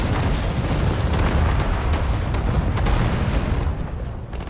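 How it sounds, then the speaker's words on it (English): Dense machine gun fire and explosions from the Sudden Strike 4 World War II strategy game, Battle of the Bulge mission, form a loud continuous barrage of rapid bursts and booms without speech. "Machine gun oiled and ready."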